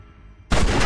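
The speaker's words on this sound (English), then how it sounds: "Oh, that gunshot startled me." A gunshot in The Wolf Among Us video game goes off suddenly and loud after a quiet, low ambient stretch, with a broad, sustained blast of noise filling the rest of the moment.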